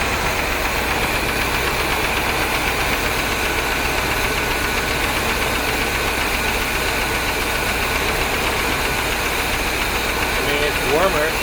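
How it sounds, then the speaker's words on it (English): An idling 1973 Corvette Stingray with a 454 engine runs close and steady, its continuous rumble carrying a faint ticking knock; a voice talks over the engine at times. "There's also that knocking noise."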